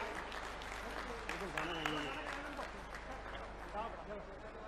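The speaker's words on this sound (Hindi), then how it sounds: "जोरदार तालियां बजाएं, बहनें बजाएं" A crowd of women and men clapping at an outdoor government ceremony in Sheopur, India, a moderate spread of applause heard somewhat distantly beneath someone talking over a loudspeaker.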